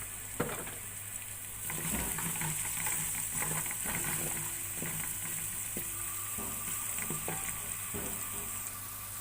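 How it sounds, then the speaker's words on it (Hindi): Garlic paste fries in cooking oil, giving a continuous soft sizzle close by with scattered sharper pops and a few scraping stirs across the span, fairly quiet and free of speech. "2 टीस्पून मैं लहसुन का पेस्ट शामिल कर लूँगी। अब इसको थोड़ी देर मैं फ्राई कर लूँगी।"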